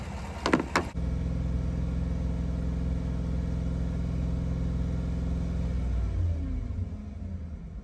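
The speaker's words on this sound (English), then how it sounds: "we'll need to increase the speed to 2500 RPM and hold it there for 10 seconds." A car engine runs close by at a steady, even hum for several seconds after a few sharp clicks at the start, and its tone shifts slightly near the end.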